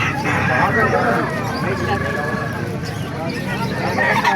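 Roosters crow and chickens cluck in a noisy, crowded chicken market in Calumpit, Bulacan, while someone talks loudly over them.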